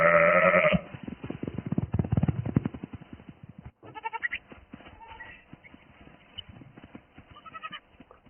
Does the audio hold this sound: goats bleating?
yes